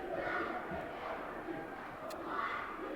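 Dense crowd noise at a high school boys basketball game against Chartiers Valley, a steady roar of shouting and cheering voices filling the whole stretch with no break.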